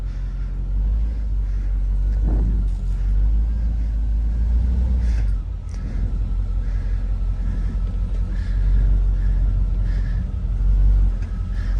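A Cadillac Escalade with a 2WD swap and low transmission fluid idles and creeps forward off ramps, with a steady, loud low engine rumble throughout and a few faint knocks, no talk.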